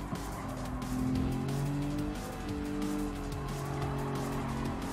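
A race car in Gran Turismo 7 brakes hard and slides into oversteer through a corner, its engine note shifting in pitch while the tires squeal and skid continuously for several seconds.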